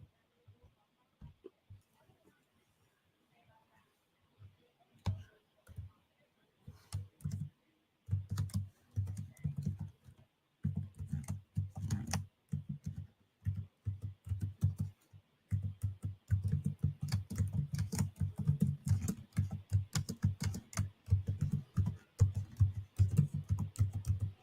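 Rapid clicking of keys on a computer keyboard, close and fairly loud, coming in bursts of steady rhythm that grow busier and denser, with a short spoken remark near the start.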